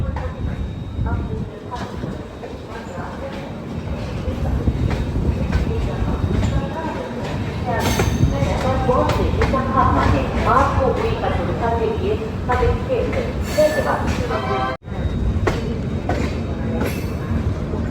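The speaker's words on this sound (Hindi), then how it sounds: "अभी हमारी ट्रेन इसे ओवरटेक कर रही है।" Moving passenger train running parallel to the Sampark Kranti Express as the Poorabiya Express overtakes it: a steady rumble with rhythmic wheel clatter and faint squeal, under someone talking.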